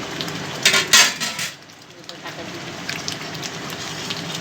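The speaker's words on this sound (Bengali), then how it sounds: "এদিকে মশলাটাও রেডি হয়ে যাচ্ছে ফটফট কাটপাট করছে" Spice masala crackles as it fries in a pan, with a couple of sharp bursts of sputtering early on, then softer popping and sizzle that carry on faintly to the end.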